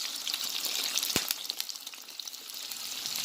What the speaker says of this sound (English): We'll kind of saute it a little bit.